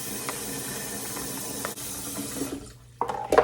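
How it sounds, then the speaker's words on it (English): Tap water pours steadily into a pot with a hissing rush, then stops, followed by a few clinks and knocks. "Let's fill this up with some water."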